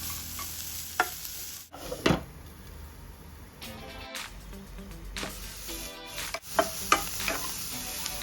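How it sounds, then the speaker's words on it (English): Carrots, cabbage and broccoli sautéing in a pan, a soft continuous sizzle with intermittent stirring scrapes and clanks, close and moderately quiet. "We are just going to saute all the vegetables for about 1 to 2 minutes"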